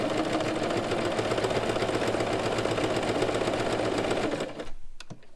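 A sewing machine stitches a homemade fabric face mask, its fast steady whirring hum running loud and unbroken for about four and a half seconds before stopping, followed by a few faint clicks.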